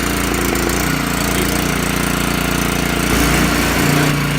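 A small engine on a power spreader runs loud and steady as its throttle is slowly opened, a close, continuous mechanical drone with a rattling buzz.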